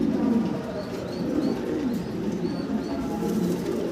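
Grizzle racer and fancy pigeons at a farm coo softly in repeated low phrases, with light chirps over a steady background murmur.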